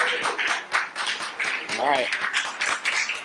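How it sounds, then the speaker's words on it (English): Audience at a fundraiser event applauding, with brisk, fairly close clapping running throughout while a person speaks over it. "Another round of applause for her."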